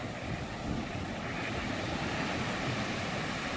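Stormy Black Sea surf near Vityazevo and Anapa, a steady broadband roar of waves whipped by strong wind, constant and fairly distant with no speech.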